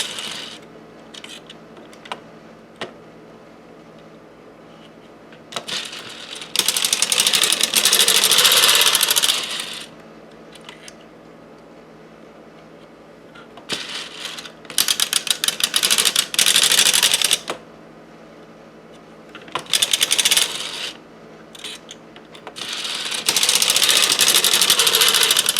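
A 3D printed knitting machine works short rows, its carriage passing back and forth in loud bursts of mechanical clatter lasting a few seconds each, separated by quieter stretches with occasional clicks.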